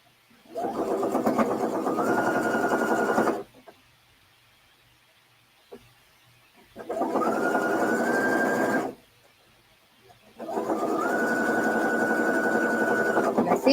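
A sewing machine stitches quilt blocks in three sustained runs of fast, even whirring, each a few seconds long and separated by quiet pauses, close and clear with no talking.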